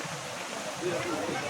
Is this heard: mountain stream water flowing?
yes